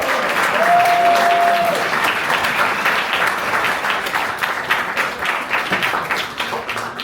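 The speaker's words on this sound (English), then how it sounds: "I think we should all applaud him for his work." An audience at a medal ceremony breaks into steady applause, with dense continuous clapping from many hands that stays loud for the full stretch and tapers only slightly toward the end.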